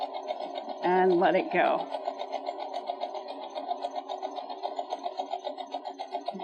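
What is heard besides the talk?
sewing machine sewing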